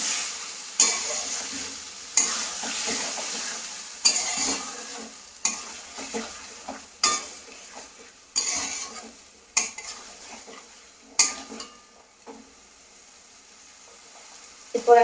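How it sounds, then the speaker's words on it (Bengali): Fish stir-fries in a pan over low heat, a soft constant sizzle punctuated by repeated sharp clinks and scrapes of a spatula against the metal, roughly every second or two. "এই মাছটাকেও আমি সেইভাবে একদম হালকা আঁচে ভালো করে কষিয়ে নেব"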